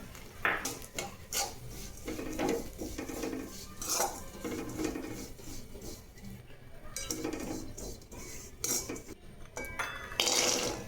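Grated coconut being dry-roasted and stirred in a pan for winter dry fruit laddoos, with repeated metal scraping and clinking of a spoon against the pan, fairly close and steady, with no talking.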